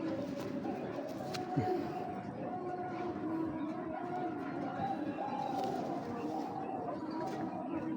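Black checker pigeons coo in a loft, soft repeated throaty coos layered over a steady murmur of birds and background noise, with someone talking over them.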